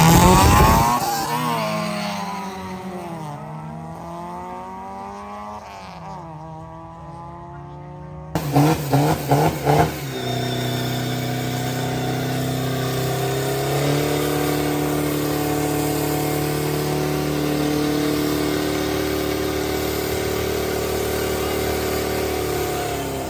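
Race car engine revving hard during a tire test at a morning car meet, with rising and falling revs, a brief quiet dip, then a burst of sharp rev stabs and a loud sustained roar close by.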